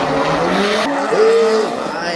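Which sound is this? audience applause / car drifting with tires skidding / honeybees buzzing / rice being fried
car drifting with tires skidding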